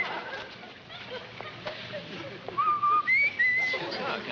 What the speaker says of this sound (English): That's our family whistle.